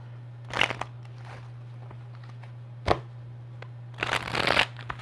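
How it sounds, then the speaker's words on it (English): Tarot cards being shuffled by hand in a few separate crisp riffling bursts, close up, with quiet pauses and a steady low hum between them. "So let's shuffle one more time."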